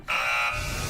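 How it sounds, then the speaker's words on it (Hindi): A game-show buzzer in a fighting-competition episode gives one loud, sustained electronic tone lasting under a second, starting abruptly and holding steady to the end. "पहला बजर दबा दिया है"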